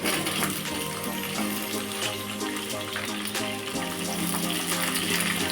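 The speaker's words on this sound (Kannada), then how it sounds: "ಇದಕ್ಕೆ ಈರುಳ್ಳಿ ಹಾಕೋತಾ ಇದ್ದೀನಿ" Onions fry in a pan for capsicum rice with a steady, dense sizzle throughout, over a faint tonal background that sounds like music.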